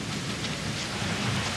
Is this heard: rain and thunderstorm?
yes